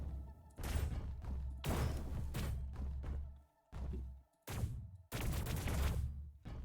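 Weapon fire in Space Engineers 2 pounds against conveyor blocks in repeated heavy bursts of thudding shots, separated by brief pauses, loud and near.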